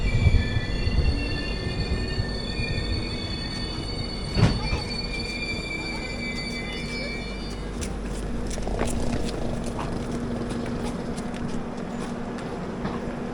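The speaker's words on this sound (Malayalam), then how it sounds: "നമ്മൾ ജസ്റ്റ് റാണിബെന്നൂർ സ്റ്റേഷനിലേക്ക് എത്തുകയാണ്." Hubballi Kochuveli Weekly Express rolling into Ranibennur station, a steady rumble of wheels on rails with high metallic squeals and screeches throughout, a louder clank partway through, heard from inside a coach with no talking.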